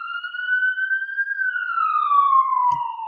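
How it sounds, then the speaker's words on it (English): A siren passes outside, a single long wail that rises slightly and then slowly falls in pitch, clear and steady, with a brief knock near the end. "I got a siren going by here."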